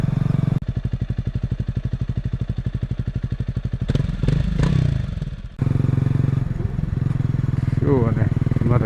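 A Honda CRF250L motorcycle engine thumps in a steady, rapid rhythm while riding toward a mountain village. A clattering, scraping break interrupts the engine midway before the steady drone returns. A rider's voice can be heard over it.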